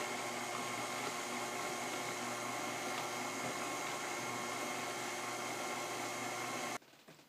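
A mixer beats hot sugar syrup into egg whites for black walnut divinity candy, a steady close motor whine and hum that holds even throughout, then cuts off abruptly near the end.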